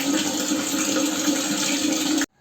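Hot water gushes from a Kamal wall mixer tap in a steady, loud, broadband rush that cuts off abruptly near the end, leaving silence; no talking.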